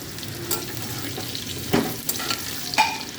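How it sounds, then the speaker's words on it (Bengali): Potatoes and carrots frying in a pan for a mixed vegetable dish give a steady close sizzle with a few sharper stirring scrapes and clicks scattered through, no voices. "দেখুন আলুটা অনেকটাই ভাজা হয়ে গেছে, এবার এর মধ্যে আমি গাজর দিয়ে দিচ্ছি"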